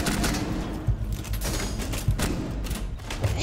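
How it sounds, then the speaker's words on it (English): Rapid gunfire in the Rainbow Six Siege video game, a dense burst of repeated shots with a few heavier thumps spaced through it, loud and close. "Damn! Nice shot."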